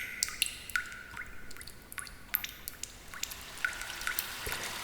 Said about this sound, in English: You follow the sound of dripping water into the Cave of Rivers, a place of emotion, intuition, and spiritual depth.